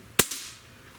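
A Barra 1866 Gen-2 Cowboy Series pellet air rifle, pumped ten times, fires one sharp loud crack that decays quickly, with a fainter second snap just after, probably the pellet striking.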